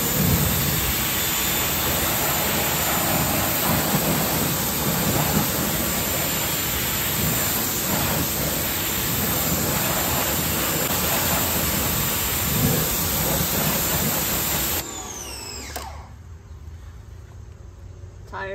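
Water sprays hard onto Audi S5 wheels during a rinse, a loud continuous broadband hiss that drops abruptly to a quieter level near the end.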